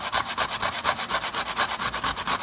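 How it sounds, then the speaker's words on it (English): Raw sweet potato is grated by hand with quick, close, scratchy strokes, about eight per second in an even rhythm, with no talking. "I'm grating my sweet potato."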